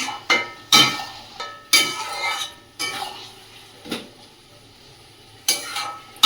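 Mutton pieces cooking in a pan for a curry, marked by repeated sharp clangs and scrapes of a spatula against metal every second or so over a low sizzle, no speech.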